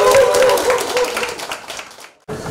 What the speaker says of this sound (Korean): 나유성 협회장님 자리 모실 때 꼬리와 같은 박수 청해 주시기 바랍니다